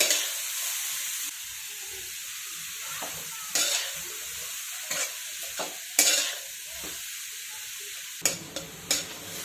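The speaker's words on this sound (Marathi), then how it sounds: "आणि गाजर तुपावरती चांगलं असं परतून घेऊयात आपण।" Grated carrot sautés in ghee in a pan for a carrot barfi sweet, with a steady soft sizzle broken by several sharp scraping stirs of the spoon against the pan, close and alone with no talking.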